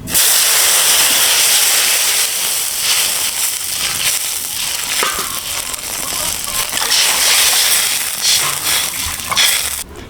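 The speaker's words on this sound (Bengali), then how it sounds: "এখন কড়াইতে আমি পরিমাণ মতো জল দিয়ে দেবো।" Water poured into a hot kadai after frying fish sends up a loud, steady steam hiss with crackling bursts, lasting the whole stretch up close.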